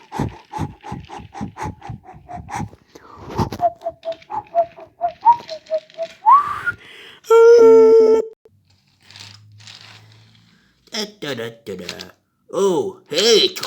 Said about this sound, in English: As Thomas coupled up to the train, the guard blew his whistle.